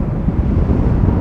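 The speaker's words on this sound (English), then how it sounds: "Because as you can tell, it's super windy here" Strong wind buffets the microphone at an outdoor filming location, a loud, continuous low rumble that goes on without a break and with no voices.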